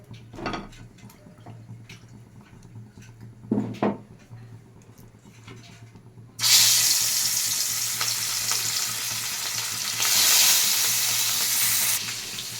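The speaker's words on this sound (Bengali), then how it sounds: "মাছগুলোকে আমি ভালো করে ভেজে তুলে নিচ্ছি" Small prawns frying in oil in a wok give a loud, continuous crackling sizzle that bursts in suddenly after a quieter stretch of scattered clinks, then swells again near the end.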